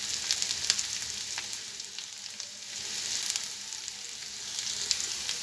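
Two chopped onions sizzle steadily in hot oil alongside mashed potatoes and cumin, a continuous bright frying hiss with small pops and no voices.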